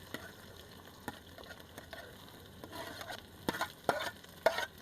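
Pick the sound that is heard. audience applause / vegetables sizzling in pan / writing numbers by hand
vegetables sizzling in pan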